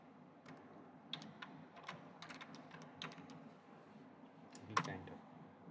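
Someone types on a computer keyboard, producing quiet, scattered key clicks in short irregular runs against a faint room background.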